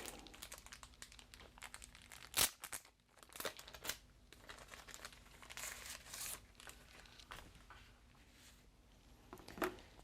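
Stickers from a No Man's Sky Explorer's Edition being pulled from their packaging, with close crinkling and tearing of plastic and paper in bursts and a few sharper rustles across the span, no talk.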